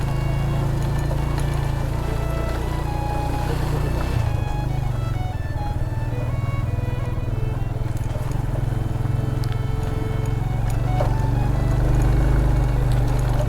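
A motorbike rides off-road toward Hussaini Bridge, its steady engine drone and rumble running continuously up close, with a rougher, bumpier stretch partway through.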